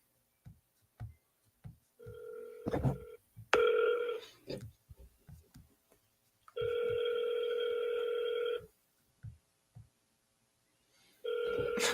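Ringback tone of an outgoing telephone call, three long steady rings with pauses between them, heard close and clear, broken up by short bursts of nearby talk and handling noises.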